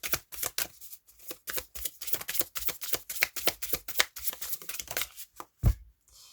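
Tarot cards are shuffled up close for a reading, a fast run of crisp riffling flicks in quick bursts with brief pauses and a final soft tap near the end, no voice present.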